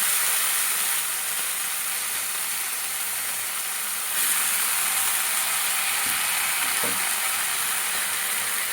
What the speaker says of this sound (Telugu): ఈ మెంతికూరని తాలింపులో ఇలా వేసుకోండి